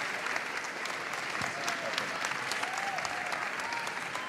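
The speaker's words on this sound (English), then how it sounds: "let's just give a huge clap for Martha, please, for opening the concert" A school audience claps for a choir soloist at a concert opening, with steady, dense applause that stays constant and fairly close throughout.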